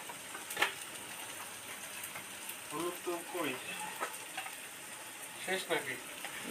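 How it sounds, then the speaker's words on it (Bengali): Chicken fries in a pan with a quiet, steady sizzle while turmeric powder is stirred in, giving occasional scraping knocks as people talk nearby. "হালকা করে হলুদ গুঁড়ো দিয়ে একটু নাড়ানাড়ি করো"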